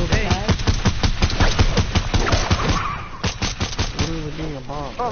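Rapid automatic gunfire and dense bursts of shots ring out loud and close in an online shooter game, with shots stacking in fast repeated volleys and a brief lull before more firing, while a voice talks over the action.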